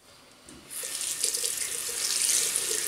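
A tap runs steadily into a sink while a stainless steel double-edge safety razor is rinsed under it, a broad close hiss of splashing water that swells after a quiet start and keeps flowing.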